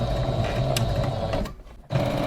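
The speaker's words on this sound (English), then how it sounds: "I'm going to hit that button while we sew" A domestic sewing machine stitching in reverse with a steady, close whirring hum that breaks off briefly near the end and then starts again.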